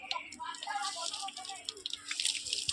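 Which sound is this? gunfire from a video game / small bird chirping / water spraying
water spraying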